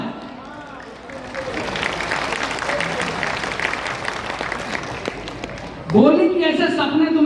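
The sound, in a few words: audience applause at a poetry festival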